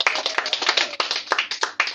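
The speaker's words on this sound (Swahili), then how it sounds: "Je, Bwana Yesu makofi." A church congregation claps in a quick, steady rhythm during a worship service, with loud sharp claps filling the room throughout.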